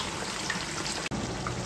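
Butter sizzling and crackling in a frying pan with a giant octopus, a steady close hiss with a brief dropout partway through.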